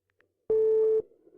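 Single steady electronic telephone tone lasting about half a second, clear and close, after a short silence and followed by faint low noise.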